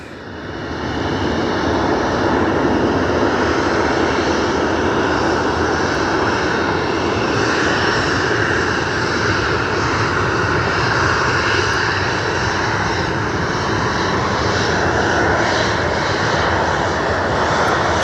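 An aeroplane at Edinburgh Airport produces a loud, sustained engine roar that swells and holds steady for the whole stretch, close by and without talk.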